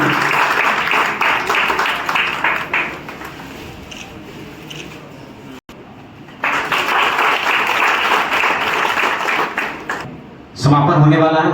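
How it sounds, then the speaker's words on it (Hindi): Audience applause at a job fair ceremony, steady clapping from a crowd that swells, briefly drops, then resumes strongly before trailing off into a louder closing burst. "ताली बजनी चाहिए।"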